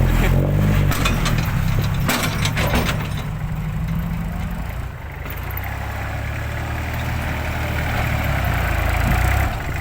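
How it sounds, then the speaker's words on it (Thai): A heavy tractor engine idles loudly up close, a steady low rumble that dips briefly midway before settling again. "รถไถเรามีด้วยกันสองคัน ของเสียแม็กแล้วก็ของเสียกุ้ง"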